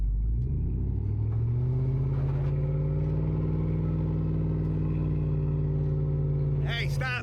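A vehicle rolls slowly through soft sand on a forest trail, a steady low engine rumble holding close and even throughout, with a brief scuffing noise at the very end.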